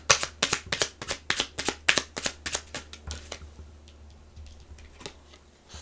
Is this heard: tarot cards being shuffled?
yes